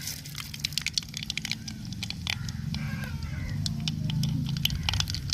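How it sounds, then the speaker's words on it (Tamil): Mustard seeds and urad dal crackle in hot oil in a pan, with sharp scattered pops and snaps over a steady low sizzle, close and moderately loud, with no voices. "உங்களுக்கு எண்ணெய் சூடாயிடுச்சு, கடுகு உளுந்து கொடுக்கும்"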